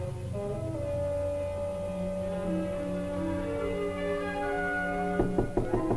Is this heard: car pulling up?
no